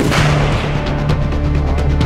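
Sniper rifle fire at a shooting range: a loud, heavy boom with a long rumbling tail that fills the whole stretch, close and dominant, without talk over it.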